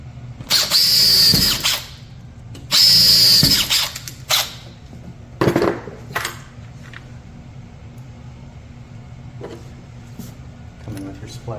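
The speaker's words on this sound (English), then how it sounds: "Drill your pilot holes." A power drill bores pilot holes for a pool door's closing hardware, whining in two loud sustained bursts of about a second each, then a shorter spurt, with low talk and handling noises in the quieter stretches.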